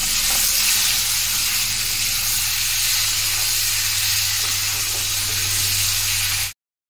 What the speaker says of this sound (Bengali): আমি এগুলোকে সুন্দর আবার ভেজে নেবো